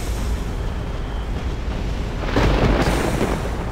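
Warship broadside gunfire in the Battlestations: Pacific video game: a dense, continuous thundering rumble that swells into a louder burst of blasts near the end, with no talk over it.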